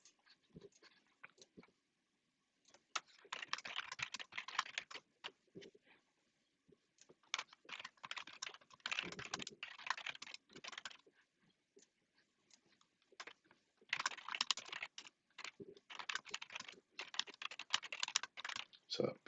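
Rapid typing of trading-bot code on a computer keyboard, close and steady clicking in long bursts separated by short pauses, with no voice over it.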